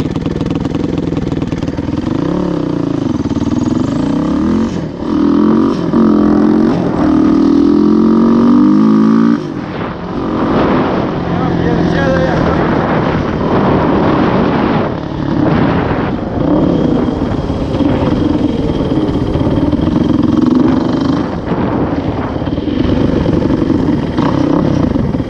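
A nearby TRX 450 ATV engine roars and revs, rising and falling in pitch with throttle changes, loud and continuous with a brief dip midway.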